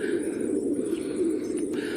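Domestic pigeons kept in a loft coo in a constant low, overlapping drone close by, with faint higher chirps mixed in.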